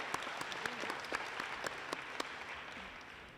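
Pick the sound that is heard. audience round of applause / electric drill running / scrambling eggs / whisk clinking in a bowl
audience round of applause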